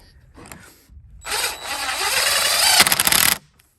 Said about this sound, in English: toenail it in from the other direction so that it's like an extension of this board here